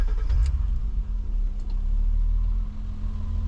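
A BMW E30 fitted with electric power steering idles after starting, a low steady engine rumble with a brief initial burst and a faint click, close by and continuous without talk.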